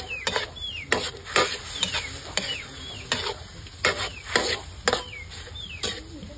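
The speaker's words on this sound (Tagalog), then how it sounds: "Ayan, halo-haloin ko ulit." Food seasoned with salt and other seasonings being stirred in a pan, a steady series of brisk scraping strokes roughly twice a second, close and clear over a faint sizzle, with no talking.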